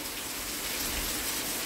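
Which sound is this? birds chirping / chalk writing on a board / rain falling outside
rain falling outside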